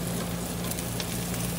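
Onions browning in a pan give a steady, dense sizzle, close and even throughout with no talk.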